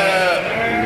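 A Dorper sheep, an Australian Dorper crossed with local stock and kept in a raised slatted pen, gives one loud, sustained, close bleat that fills the moment without pause.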